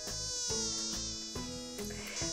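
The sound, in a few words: mosquito buzzing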